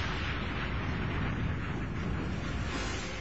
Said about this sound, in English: 1 million pounds of TNT are detonated to simulate the blast of an atomic bomb.